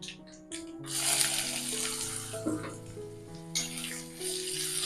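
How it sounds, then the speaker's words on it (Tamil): Cut bitter gourd frying in oil with curry leaves, turmeric and asafoetida gives a soft, steady sizzle, faint and continuous under sustained background tones. "எண்ணெயில கொஞ்சம் வதங்கட்டும்."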